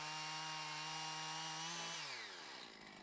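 Chainsaw at full throttle cutting into a tree trunk, a loud, steady buzzing whine that bogs down and drops in pitch as the chain bites into the wood.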